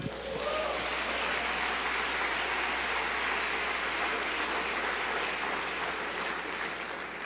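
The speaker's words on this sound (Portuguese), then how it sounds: "Vamos aplaudir ao Senhor" Church congregation applauding together, a steady dense wash of clapping that holds evenly from start to finish with no voices rising above it.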